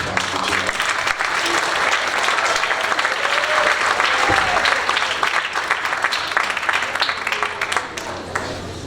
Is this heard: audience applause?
yes